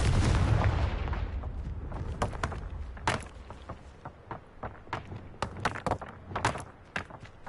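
A fire blast spell goes off in Hogwarts Legacy with a loud opening burst that fades, followed by a scatter of sharp thuds and impacts at uneven intervals.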